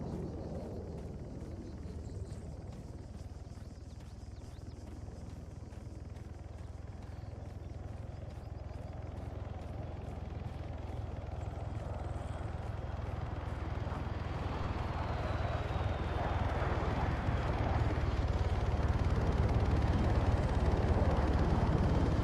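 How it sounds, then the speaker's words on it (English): In Arma 3, a helicopter roars through the whole stretch as a steady low rotor rumble that slowly swells louder, as though closing in and passing overhead, with no voices. "I don't know if that's my helicopter"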